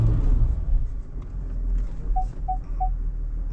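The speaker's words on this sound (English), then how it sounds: "got a bit of wheel spin happening" A 2025 Ford Everest Tremor in low range with the diff lock engaged spins its wheels on a slippery off-road slope. A deep engine rumble runs throughout, with three short beeps near the end and no talk.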